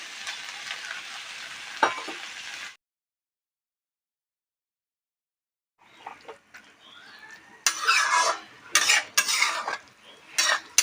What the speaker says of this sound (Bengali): শিলপাটাতে বেটে রাখা সরষা শুকনো লঙ্কা দিয়ে দেব সাজনাতে